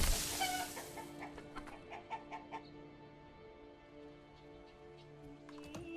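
Chickens cluck in a coop in a settlement-building video game, several soft, scattered clucks over a steady low ambient hum, with no talking.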